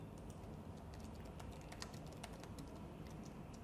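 Quiet, steady typing on a computer keyboard while entering details for a new Outlook appointment, a soft continuous patter of key presses against a faint background hiss.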